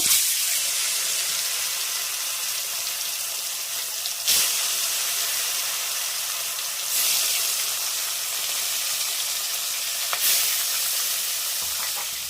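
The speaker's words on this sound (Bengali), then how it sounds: "গরম হয়ে গেছে, এবার আমি মাছটা ভেজে নেব।" Bhola fish fry in hot oil in a home kitchen, a steady bright sizzle running continuously, broken by a few short louder crackles or clatters spaced several seconds apart.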